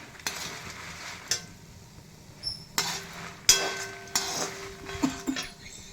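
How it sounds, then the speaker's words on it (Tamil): Urad dal, chana dal and dried chilies dry-roasting in a pan, stirred with a spoon that scrapes and taps the metal in repeated soft strokes over a faint continuous frying hiss. "இப்போ அது கீழே இருக்கிற உளுத்தம்பருப்பும் கடலைப்பருப்பும் கொஞ்சம் நல்லா செவர்ற மட்டும் மிளகாயோடு சேர்த்து வறுத்துட்டு"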